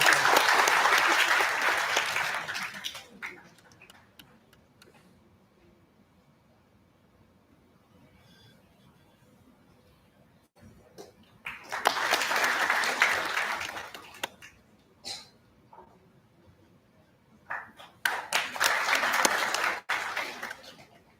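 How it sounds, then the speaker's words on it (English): A conference audience at an international conference on intelligent systems applauds guests invited on stage, including a university vice chancellor. There are three distinct rounds of loud clapping: one at the start, another midway, and a last burst near the end, each separated by quieter gaps. "Let's give them a big round of applause"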